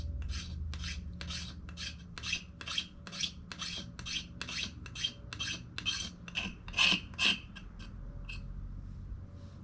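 A knife spine scrapes off fine shavings for fire starting, producing a close, even series of about twenty quick rasping strokes that become louder near the end.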